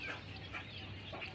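King quails calling at a quail farm, faint soft chirps and clucks repeating in quick succession over a low background hum.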